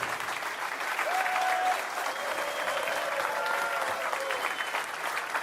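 Crowd applauding and cheering at the PBA US Open 2025 stepladder finals, a bowling event; steady, dense clapping fills the whole stretch, with a few whistles rising above it.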